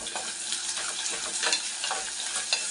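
Onions and spices for cumin rice fry in a pan with a steady crackling sizzle and light stirring scrapes, close and constant, with no talking.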